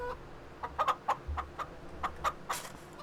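Chickens cluck in the Farming Simulator 25 farm game, a series of short, moderately close clucks in an uneven rhythm over a quiet background hum.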